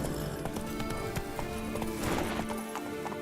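Hooves of Roach, the horse in The Witcher 3: Wild Hunt, clip-clop at a steady rhythmic gallop, close and clear, with a brief whinny mixed into the game's ambient backdrop.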